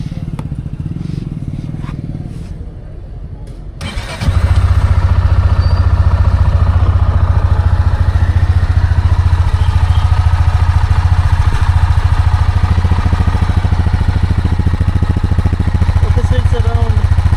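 A Honda CB300 motorcycle with its stock exhaust cranks over briefly, fires up and settles into a steady, close idle with a low even thrum and light mechanical clatter.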